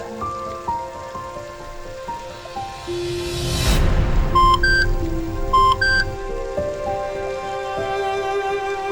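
Steady rain patters on a surface as a sound effect in an audio drama, with a background music bed and a few bright electronic beeps partway through.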